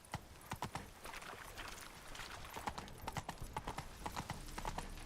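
Roach the horse gallops in The Witcher 3 video game, a quick rhythmic run of clip-clopping hoofbeats on hard ground, moderately close and continuing steadily throughout.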